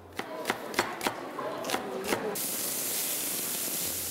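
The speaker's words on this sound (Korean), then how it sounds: "경쾌한 도마질 소리" Knife strikes a cutting board in a quick, light run of about eight crisp chops during a campus student cooking contest, followed by a steady loud hiss of food frying in a pan.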